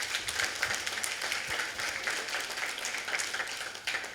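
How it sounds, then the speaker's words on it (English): A crowd applauding steadily for about four seconds, a dense even wash of clapping with no distinct pauses or voices on top. "Yes, huge round of applause."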